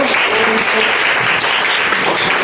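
A school class claps at the end of a lesson, a brief burst of lively, fairly loud applause from a roomful of students that stays dense and even, with faint voices mixed in.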